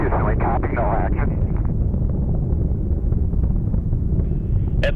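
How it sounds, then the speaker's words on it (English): Space Shuttle Atlantis's three main engines roar during the STS-125 launch while throttling down through maximum dynamic pressure: a steady, dense, rumbling crackle with a radio voice briefly over the start. "all three engines now throttling down as the vehicle passes through the area of maximum dynamic pressure"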